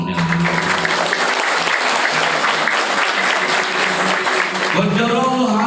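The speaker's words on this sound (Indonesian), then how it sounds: "Tepuk tangan bagi semuanya." An audience of new Islamic boarding-school students and guests at an evening motivational event in Tasikmalaya claps loudly and continuously, with voices audible over the applause toward the end.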